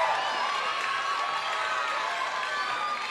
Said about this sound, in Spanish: Fuerte el aplauso para Benji, el Azteca, el original Azteca de Acapulco